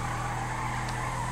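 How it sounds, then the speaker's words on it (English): A car spins donuts in GTA V, its engine a steady, continuous drone with a faint tyre-skid hiss, loud and unbroken throughout. "I'm going to do donuts until my wheels burst"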